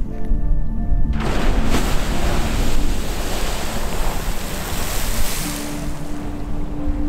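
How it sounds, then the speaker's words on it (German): A geothermal eruption bursting from the ground makes a loud, continuous rushing hiss and roar with a churning, bubbling undertone. It holds steady for several seconds, close and unbroken, with no voices. "Rundherum brodelt, dampft und zischt es."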